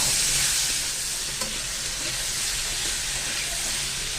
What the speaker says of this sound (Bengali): এরপর আমি দিয়ে দেবো আলুগুলোকে আমি ভালো করে ভেজে নেব